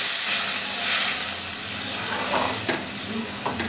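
Tomato, coconut, coriander and cumin spice paste frying in a pan with a little water: a steady close sizzle and hiss, with soft scraping stirs cutting in now and then.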